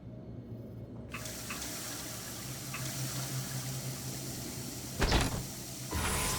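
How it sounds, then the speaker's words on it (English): A tap runs steadily inside the video game Prey, a constant hissing stream of water from near the start, with a couple of door-like thumps later on. "Drinking water actually restores my HP by 1 point."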